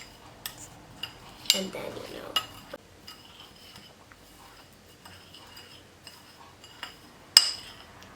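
A utensil stirs a honey and sugar lip scrub in a small dish, giving scattered soft clinks and scraping taps with quiet gaps, while a person briefly speaks.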